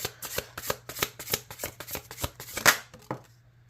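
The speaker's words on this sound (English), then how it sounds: "Okay, so shuffle." Oracle cards are shuffled in quick, rhythmic riffles, a steady run of crisp flutters and taps close by with no talking.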